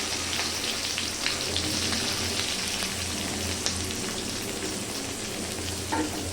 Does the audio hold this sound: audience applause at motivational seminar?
no